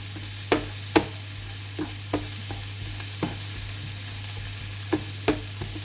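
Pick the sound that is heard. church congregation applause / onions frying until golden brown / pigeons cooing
onions frying until golden brown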